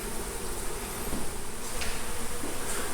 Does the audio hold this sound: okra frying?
no